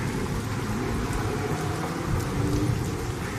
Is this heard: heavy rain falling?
yes